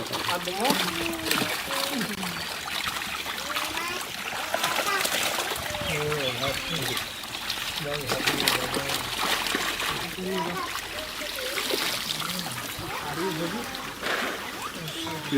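Fish splash and thrash as they are pulled from a pond in a net, their close watery splatters and trickles continuing throughout. Several people talk and call out over the splashing.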